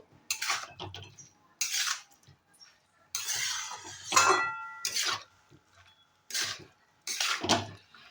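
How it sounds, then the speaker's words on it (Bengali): Bottle gourd with salt and turmeric is stirred in a pan, producing repeated bursts of scraping and clinking from a utensil against the pan, separated by short pauses. "নুন আর হলুদ দিয়ে আমি খুব ভালো করে এটা একটু নাড়াচাড়া করে নেব।"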